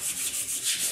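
Wax being rubbed by hand onto the corners of a piece of furniture with a chalky vintage finish, a soft steady scuffing with rhythmic swells, close and moderately loud.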